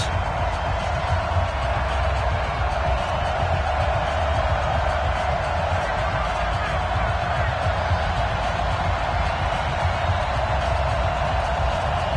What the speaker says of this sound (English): This crowd is ready as their guys get set to match up between the Pittsburgh Steelers and the Baltimore Ravens.